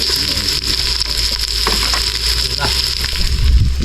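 Garlic and onion sizzle loudly in a frying pan, a close, continuous crackling fry with occasional stirring scrapes and no talk over it.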